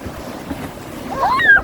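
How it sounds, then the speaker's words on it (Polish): Waves of the Tyrrhenian Sea rush and wash onto the shore at Ostia in January in a steady surf roar, swelling louder toward the end, with a high excited voice calling out over the water. "Czekamy na falę."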